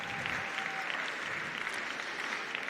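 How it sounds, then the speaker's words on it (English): Dense, continuous applause from a large audience at a school closing ceremony, honoring behind-the-scenes helpers, a steady wash of many hands clapping at a moderate distance. "can we give a massive round of applause to all these amazing adults and students who work behind the scenes"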